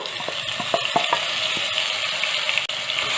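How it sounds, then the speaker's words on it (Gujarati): Cumin, a pinch of asafoetida and ginger-garlic-chilli paste sizzle in hot ghee for a dhaba-style dal tadka, a steady loud frying hiss with a few brief crackles and stirring taps, no voices. "ઘી આપણું ગરમ થાય એટલે તેની અંદર 1 ટીસ્પૂન જીરું ઉમેરીશું, ચપટી હિંગ અને જે આદુ લસણ મરચાંની પેસ્ટ છે તે ઉમેરી દઈશું"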